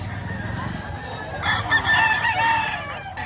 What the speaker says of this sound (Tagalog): napakadaming amurang manok ngayon